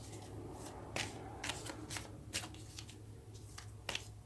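Tarot cards are shuffled by hand in soft, quiet riffles and slides, with several crisp flurries roughly every half second to second over a low steady hum.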